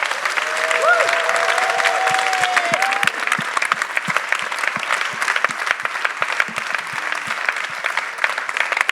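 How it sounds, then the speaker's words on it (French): An audience at a conference day wrap-up claps for Nicolas Lizard: sustained, dense applause from a modest crowd throughout, with a faint voice briefly audible early on. "Je pense qu'on peut l'applaudir bien fort"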